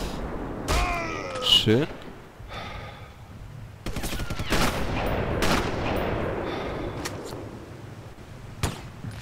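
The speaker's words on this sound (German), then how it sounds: "Mit der Schallgedämpfung mal wieder perfekt weggesnipert." Suppressed sniper rifle shots in Sniper Elite, sharp muffled cracks scattered across several seconds with other gunfire in the mix, as someone speaks German over the action.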